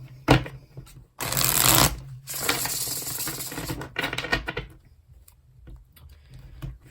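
Tarot cards are shuffled by hand, giving close, crisp riffling bursts of papery flutter with taps and short pauses between them, with no talking over it.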